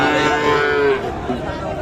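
Sahiwal cattle bellow at the traditional Raniganj livestock market in Ghoraghat, Dinajpur. One loud, close, drawn-out moo is followed by a shorter lowing call over a faint crowd murmur.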